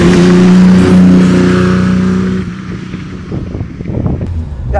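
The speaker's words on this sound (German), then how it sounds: "12-Zylinder-Sound ist ein 12-Zylinder-Sound." A 1968 Ferrari 365 GT 2+2 "Queen Mary" with a 4.4-litre V12 revs loudly nearby in a smooth, deep drone that fades into rumbling driving noise.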